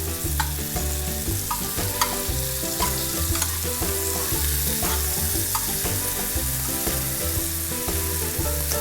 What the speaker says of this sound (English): So you're gonna flip them over, brown them on the other side